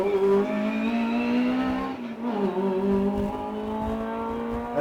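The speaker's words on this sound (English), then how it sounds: "That car sounds beautiful, doesn't it?" A historic race car drives a sprint course at Leyburn, its engine note rising and holding in a loud, sustained roar, briefly dipping as it shifts or changes direction, then pulling on steadily, with no voices.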